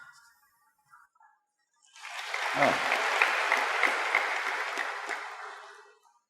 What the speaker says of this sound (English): So, all those who clapped,